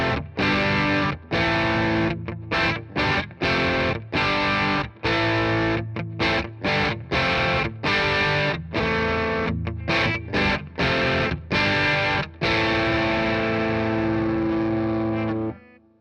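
An electric guitar played through a Hello Sailor Effects fuzz pedal with reverb produces loud, saturated distorted chords in choppy rhythmic bursts with brief gaps, ending on a long sustained chord that rings out.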